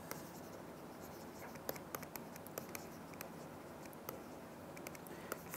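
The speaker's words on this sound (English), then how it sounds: "So let me write that very quickly." Marker or chalk scratching across a board during a university math lecture on compactness, a steady run of quick strokes and taps heard close over a faint room hiss.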